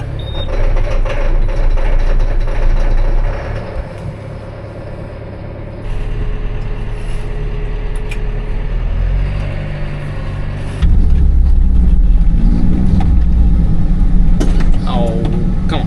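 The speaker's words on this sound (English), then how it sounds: "We didn't plug this tractor in overnight, so might have a hard time starting" A tractor that sat unplugged overnight cranks and fires on a cold morning after double preheat, its diesel rumble loud and close, the engine note shifting and surging several times as it catches and settles.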